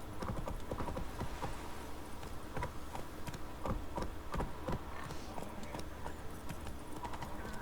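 A horse in The Witcher 3: Wild Hunt gallops with rapid, rhythmic clip-clop hoofbeats, steady and fairly close under a faint background, with no talk.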